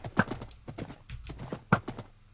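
Horse hooves clip-clopping in the Minecraft video game during a potion PvP match, a quick run of hard, hollow hoof clops in uneven bursts with a couple of sharper, louder strikes, heard alone at close range.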